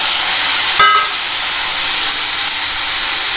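Finely chopped tomatoes land in hot oil and spices for mustard greens saag, bursting into a loud, steady, close sizzle that holds without pause.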